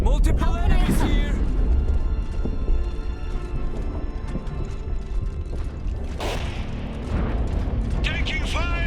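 Combat in the Iron Harvest strategy game: continuous rumbling gunfire and explosions, with heavy booms early and again near the end, mixed with clanking mechanical movement under game voices.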